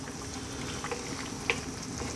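Lamb curry (methi gosht) simmers in a lidded pot over low heat, a steady soft bubbling hiss with a couple of faint pops, close and continuous without talk.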